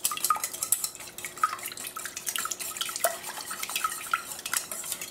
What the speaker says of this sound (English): So I'm just going to break up the eggs.